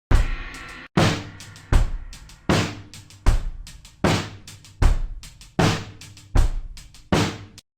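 A drum sample in Kontakt, slowed with slice-based time-stretching, plays alone as a loud, even run of about ten heavy hits, each jumping to a new slice and decaying before the next.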